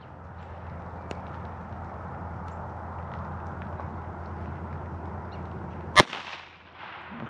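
A handgun is fired at a target during outdoor shooting practice: one sharp, loud crack cuts through quiet ambient background near the end, with a brief fading echo afterward.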